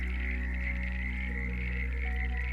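Steady, dense chorus of frogs croaking together at a pond at night, a continuous pulsing drone with a higher trilling layer, no voices.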